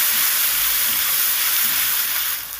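Ginger and green chili paste fries in a hot pan with a loud, steady hiss and sizzle that holds evenly before easing off at the very end.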